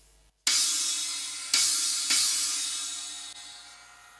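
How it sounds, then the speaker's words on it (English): Paiste Rude Blast China, a 14-inch china cymbal, hit three times with loud, trashy, explosive crashes, each leaving a harsh wash that fades over a couple of seconds, close and alone. "which is called a Blast China, and it's 14-inch,"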